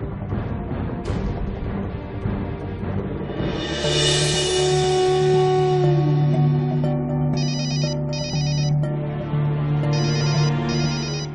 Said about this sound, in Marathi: राधा ग फोन वाजतोय